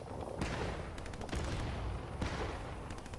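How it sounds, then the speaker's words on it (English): Fortnite gunfire from over a hill comes as faint scattered shots and short bursts, a handful of sharp cracks spread across a quiet steady background. "they're shooting over the hill"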